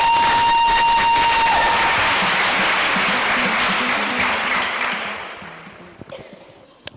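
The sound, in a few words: congregation applauding and cheering in church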